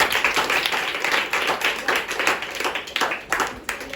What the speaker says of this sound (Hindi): सभी अपने लिए ताली बजाओ सबको